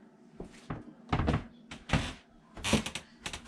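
Wooden floorboards creak and knock in short bursts, several uneven creaks and thuds spaced apart, close and fairly quiet, with no speech.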